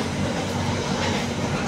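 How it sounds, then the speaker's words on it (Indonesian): A passenger train rumbles past at close range at a railway crossing, a dense continuous roar of rolling wheels and rattling carriages, loud and unbroken throughout. "Iya, silang, persilangan dengan kereta api Sembrani nomornya 62A"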